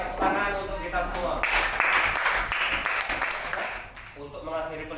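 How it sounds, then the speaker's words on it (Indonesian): Primary school pupils clap together in a classroom: a few seconds of brisk, moderately loud applause, with a voice speaking just before and after it. "tepuk tangan untuk kita semua."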